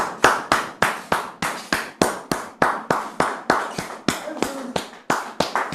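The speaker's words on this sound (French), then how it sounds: "Sous vos applaudissements." Studio audience applause comes as a run of loud, evenly spaced single claps, about three per second, sharp and close with no talk over them.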